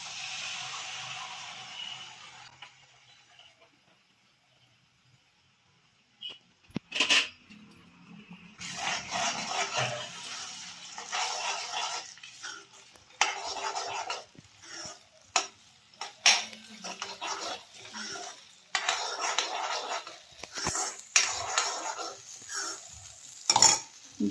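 Peanut and coconut paste with onion frying in hot oil in a kadai, a quiet start giving way to loud sizzling and scraping stirs with clattering utensil hits, close up and without talk.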